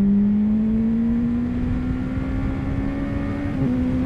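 A 2015 Honda CBR600RR motorcycle accelerating hard, its engine note climbing steadily and loud with a brief dip near the end as the quick shifter snaps through a gear change.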